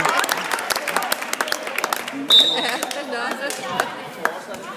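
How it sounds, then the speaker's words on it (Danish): Crowd noise from spectators at a Hvidovre versus Rudersdal football cup match: scattered claps, chatter and thuds, steady at moderate level with voices mixed in throughout. "Det er jo kun godt med lidt lyd fra publikum"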